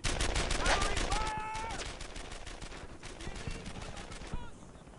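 Rapid machine-gun and rifle fire in the war video game Earned in Blood: dense, loud, repeated bursts that fade slightly as the clip goes on, with shouted voices mixed in.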